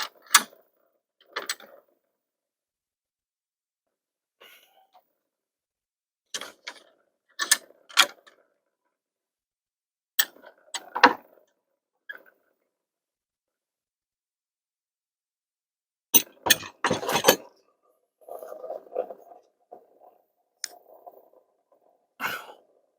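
Clamp on a black powder press being loosened and the press taken apart by hand: scattered short mechanical clicks, creaks and clunks in separate bursts with quiet gaps, close by, ending in a denser cluster of rattling handling noise.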